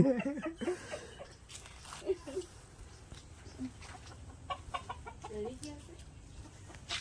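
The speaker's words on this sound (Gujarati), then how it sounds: "આ બાજુ મરઘીઓ માટે ઘર બનાવેલું છે અને આ તમે જોઈ શકો છો" Chickens cluck in short, scattered bursts near their coop at dusk, fairly faint and mixed with people talking nearby.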